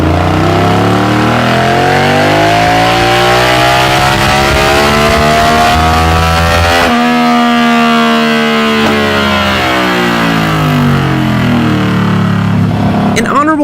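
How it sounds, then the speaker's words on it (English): A powerful Yamaha VMAX big-bore V4 motorcycle engine revs loudly and close, its pitch sweeping up and down in long surges before a final blip. "Let's get a sound check on the Big Bore V4 Fun."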